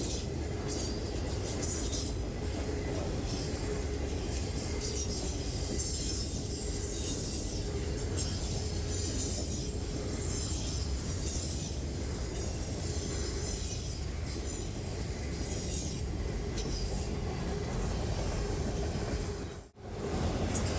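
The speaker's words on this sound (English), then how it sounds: "He's got hoppers, empty trash containers, a long line of boxcars." A long freight train of hoppers, empty trash containers, boxcars and empty auto racks rumbles steadily past close by, wheels clattering and squealing on the rails in a continuous loud roar, with no talking.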